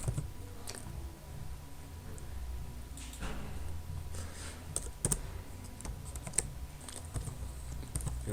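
Keys clatter on a computer keyboard while HTML form code is entered in Sublime Text 3, in irregular quick bursts of close, light clicks over a low steady room hum.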